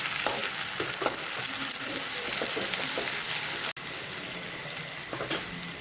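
Onion and tomato fry in a pan for chicken curry, a steady close sizzle broken by scraping stirs, with one abrupt cut near the end.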